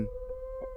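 A dog lets out a short, sustained howl, a single steady tonal wail, fairly faint and alone.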